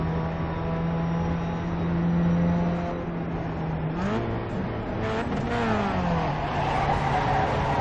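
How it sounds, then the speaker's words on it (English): A race car's engine drones steadily on a road course at Summit Point Raceway, then tires squeal in wavering, rising and falling screeches as it slides through a turn, engine roaring underneath. "As we're gonna slide through the last turn, as you can hear the tires squeal."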